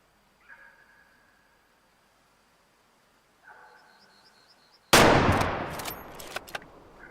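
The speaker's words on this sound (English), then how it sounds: "How many shots have I fired?" A rifle fires while hunting in the video game Way of the Hunter: a loud blast with a long rolling echo, then a few fainter shots. Soft electronic game tones come before it.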